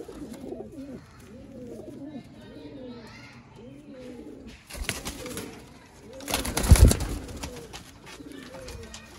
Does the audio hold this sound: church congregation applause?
no